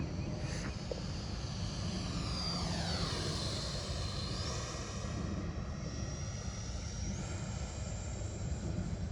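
A Freewing 80mm F9F-8 Cougar model jet sweeps past on a low pass, its high whine dropping sharply in pitch as it passes, then lingering as a faint distant hum over steady background noise.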